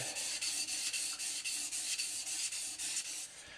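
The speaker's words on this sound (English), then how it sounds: "It kind of slips along the stone instead of actually grinding on the edge, and makes a different sound" A Moritaka kitchen knife blade rubs and slides across a sharpening stone in steady back-and-forth strokes under fairly high pressure, a soft, even scraping close by.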